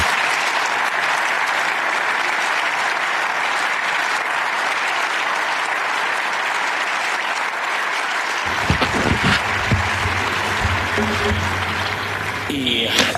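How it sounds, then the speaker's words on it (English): A large audience applauds in a steady, dense wash of clapping that holds for the whole stretch, with a voice starting to speak underneath during the last few seconds. "these applause are not directed to me and at me"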